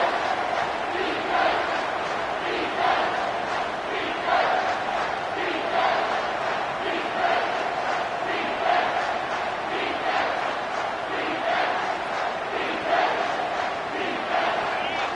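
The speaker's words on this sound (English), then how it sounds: "Decibels rising as the crowd gets behind this defense on third down" A football stadium crowd roars steadily during a third-down play, a dense wall of cheering and shouting that rises and falls without a break.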